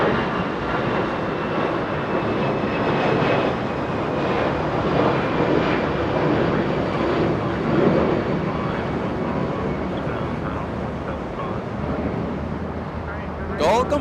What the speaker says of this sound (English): Air China now, that one coming from the parking area. A departure, that's a Dreamliner flying to Beijing.